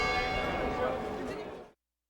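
A single deep stroke of the bell in the tower at St. Mark's Square, Italy, ringing out loud and rich with a long humming ring that fades and then cuts off sharply.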